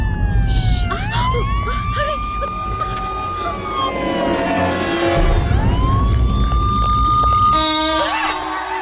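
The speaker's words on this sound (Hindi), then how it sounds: "इसमें क्या है? पुलिस सायरन है, इससे लोगों को डराएंगे।" A wailing toy police car siren sweeping up and down, loud and close, with rising and falling tones, traffic rumble and some voices underneath.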